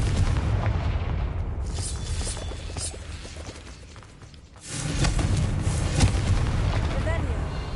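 Repeated Confringo fire-curse explosions in Hogwarts Legacy, heavy booming bursts layered over continuous rumbling game sound, with a brief dip before another loud surge; speech is present throughout.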